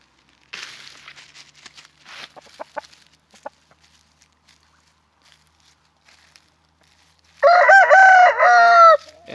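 An Indian Game rooster crows once, loud and close, after a stretch of quiet scuffling and faint clucking sounds.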